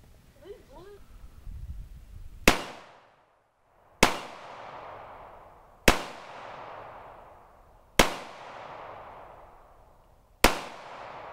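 Five loud, sharp gunshots from target shooting in Texas ring out about every two seconds, each trailing off in a long echo, after a brief stretch of voices at the start.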